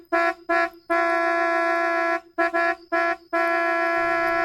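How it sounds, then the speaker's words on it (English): A car horn honks obnoxiously outside a house in repeated loud blasts, several short toots and longer sustained blares in an uneven rhythm, close and harsh. "The horn honks obnoxiously."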